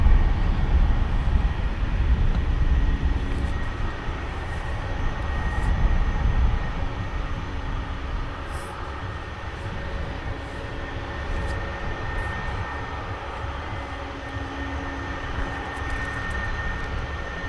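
An EasyJet jet airliner takes off at Luton Airport, its broad, steady engine roar heard from a distance and slowly easing as the aircraft climbs away.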